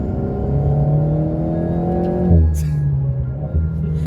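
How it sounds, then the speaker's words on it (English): Alpine A110 sports car engine pulling hard with a rising induction whoosh and whistle, then a sharp gear change and renewed pull; loud and close, no talk. "I mean, have a listen to this induction sound."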